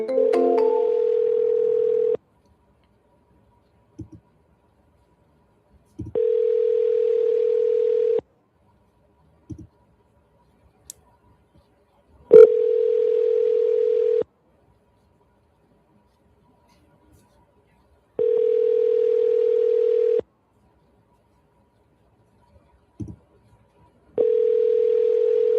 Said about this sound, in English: I'm going to double dial him. Let's see if he answers on the second dial.